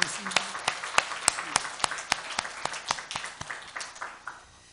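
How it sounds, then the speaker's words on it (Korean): A church congregation at a New Year's service claps together in sharp, distinct strikes at a fairly steady rhythm, with some voices underneath, before the claps thin out and fade toward the end. "다시 한번 하나님 앞에 영광의 박수 한번 드리겠습니다"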